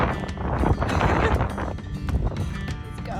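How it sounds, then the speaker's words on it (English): Wind buffeting a microphone outdoors at a deserted medieval village field, a loud continuous low rumble with gusty swells and faint rustling, no speech. "With the wind starting to pick up"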